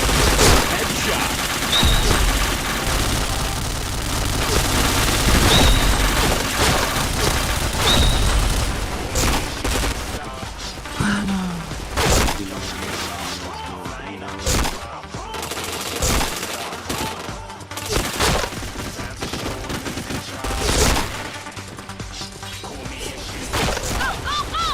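Rapid gunfire bursts and explosive booms from the online shooter game Point Blank crackle loudly and continuously, with dense automatic fire, sharp single shots and crashes layered under occasional talking.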